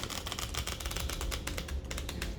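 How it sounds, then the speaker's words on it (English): A deck of tarot cards is shuffled by hand in a quick, close run of crisp riffling flicks that continues steadily for a couple of seconds, with no voices. "I'm just making sure that I am shuffling it so I won't get the same cards"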